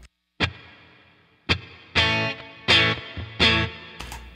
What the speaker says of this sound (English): So you can hear the reverb trails, right?